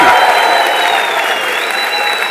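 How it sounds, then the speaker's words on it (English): Audience applause for Chef Ajay Chopra at a hospitality convention: dense, steady clapping from a large crowd, loud and sustained throughout with no voices. "Can we please have a huge round of applause for Chef Ajay Chopra?"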